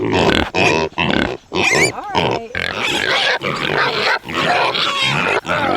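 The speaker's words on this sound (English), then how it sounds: "Pigs always stick their nose in the air like, what's that?" A pig on a homestead food garden grunts and snorts loudly and continuously up close, in a rapid series of rough, uneven bursts with brief pauses between them.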